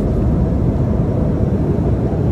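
Steady low roar of an airliner cabin during descent toward Frankfurt Airport, a continuous broadband rumble with no talk.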